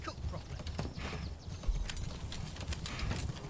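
Horse hooves clip-clopping in the Manor Lords medieval village-building game, a steady patter of hoofbeats at moderate level over a busy background of in-game ambience.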